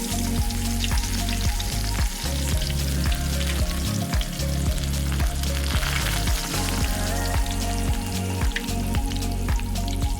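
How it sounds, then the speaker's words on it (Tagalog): Shrimp fry in olive oil in a pan with a steady, loud sizzle and crackle, marked by regular soft pulses throughout and no voices. "Fry the shrimp just until they turn pink"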